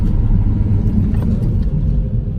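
A Jeep Patriot on a test drive after a brake pad replacement rolls to a stop, heard from inside as a loud, steady low rumble of road and engine noise with no brake squeal and no talking.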